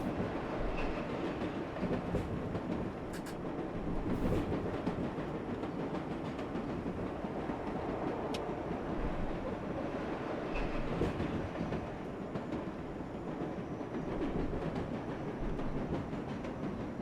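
Number 7 local subway train in the game World of Subways 4, running steadily with a continuous rumble and clatter of wheels on rails, occasional faint squeals and clicks, no talk.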